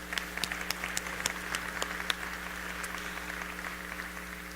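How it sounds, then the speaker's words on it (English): Steady audience applause fills a gala celebration hall, with dense clapping and a few sharper individual claps standing out, sustained at moderate volume. "Let's give a round of applause for that."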